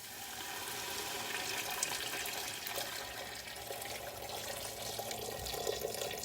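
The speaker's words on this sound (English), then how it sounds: "I'm just going to add some water." Water pouring into a hot pan of Korean vegetable japchae, a steady splashing, sizzling rush heard close up and alone for several seconds.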